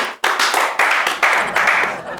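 A few people clap in short separate bursts, close and loud, with brief pauses between them and some voices mixed in.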